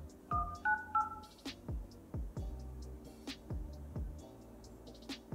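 A Redmi Note 5 Pro plays a series of short phone dialing tones while a VoLTE call is placed, with a quick run of beeps followed by sharp, evenly spaced taps.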